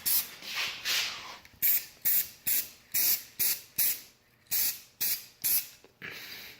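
Orange paint sprayed as a first coat onto a Honda CBR 600RR motorcycle part: a soft hiss followed by about eight short, regular spray bursts, close and moderately loud, with no talking.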